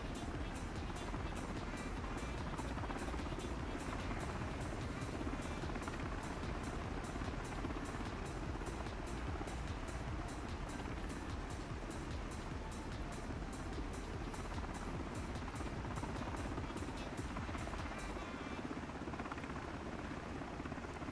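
Miltech MH-60T helicopter flying from Kodiak to Cordova in Microsoft Flight Simulator 2024, with a loud, steady turbine roar and a fast rhythmic rotor chop throughout that drops away abruptly near the end.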